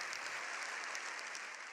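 Sustained applause fills a parliament chamber, a dense, steady wash of many hands clapping together with no pauses and no voices rising above it.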